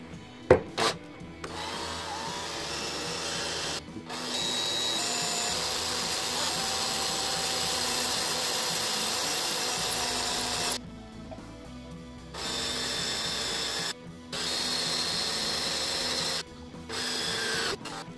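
Makita DDF482 cordless drill boring a hole after the spot was marked with a centre punch, a steady loud whirring grind in long stretches broken by short pauses, with no talking.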